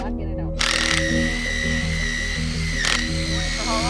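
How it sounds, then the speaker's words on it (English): A drill bores a tap hole into a maple tree, with a steady loud mechanical whine running throughout and a brief burst of harsher noise near the end. "So you just drill it a little bit and there it goes."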